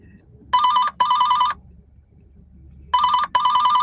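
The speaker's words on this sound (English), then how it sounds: "That was the phone." A telephone rings in two clear double bursts, loud and close, with a pause between pairs and a faint low background murmur.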